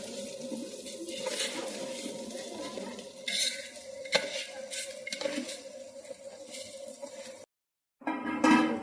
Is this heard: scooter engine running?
no